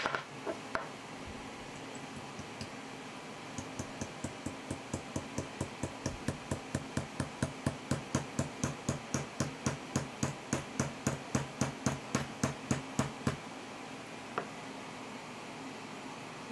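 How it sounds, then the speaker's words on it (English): A hammer taps the trigger part of a Tiberius Arms T15 marker in a long run of light, evenly spaced metallic knocks, close and clear, that gradually grow firmer before stopping. "I'm just gonna use a little bit of pressure from the hammer, just to tap it"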